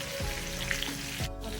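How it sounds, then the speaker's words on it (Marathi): Fish frying in a pan over high flame, a loud continuous crackling sizzle that stays close and steady throughout the brief moment. "आपण याला 2-3 मिनिटं हाय फ्लेमवर तळणार आहोत"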